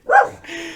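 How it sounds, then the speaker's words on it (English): A dog barks once or twice nearby, close to a door indoors, a loud sharp bark followed by a fainter trailing yelp. "I'm gonna wait for him to stop barking, because fuck that dog."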